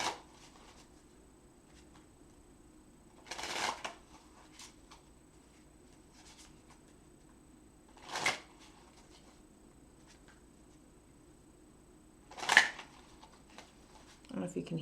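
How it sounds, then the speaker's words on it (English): A tarot deck riffle-shuffled at close range: three short, crisp bursts of riffling spaced several seconds apart, with a quiet steady background between them. "Let me shuffle this deck."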